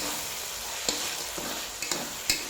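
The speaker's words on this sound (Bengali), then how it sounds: "নাড়াচাড়া করে নেব" Spices and vegetables sizzle steadily in a frying pan with a constant hiss, broken by a few light scrapes and clinks of a stirring spoon, close and unaccompanied by speech.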